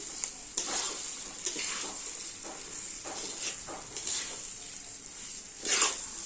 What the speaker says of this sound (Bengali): আগে সুন্দর করে চলো ভাজা করে নিই।